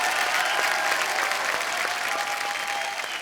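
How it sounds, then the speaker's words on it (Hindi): A studio audience on a Hindi television comedy talk show claps steadily and energetically throughout the short stretch, a full, close wash of applause with no talk over it. "एक बार जोरदार तालियां हो जाए पूरे खान परिवार के लिए, खास तौर पे सलीम साहब के लिए जोरदार तालियां।"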